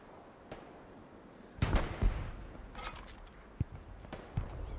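Sporadic gunfire in the World War II shooter Hell Let Loose at night, a few sharp cracks and thuds scattered at moderate distance, fairly quiet overall with no talk.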